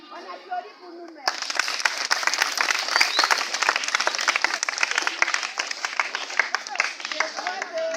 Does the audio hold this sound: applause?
yes